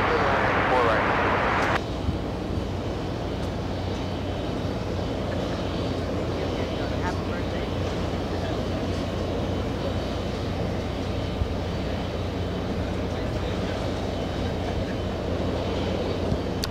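A heavy Airbus A330 airliner at JFK airport makes a loud, continuous broadband jet roar that holds steady over the whole stretch.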